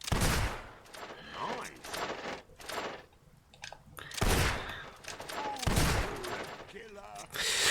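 Gunshots at a shooting gallery in the Fable 2 video game, several sharp separate reports spaced a second or more apart, with quieter clicks and game sounds between them.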